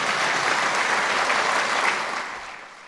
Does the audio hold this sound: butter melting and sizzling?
no